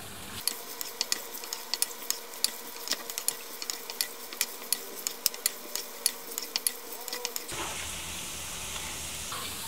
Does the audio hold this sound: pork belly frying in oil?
yes